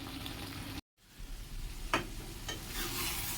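Stirring a dried fish curry with vegetables in a pan, a soft scraping and sizzling texture running steadily throughout, with a brief dropout and a couple of sharper scrapes of the spoon.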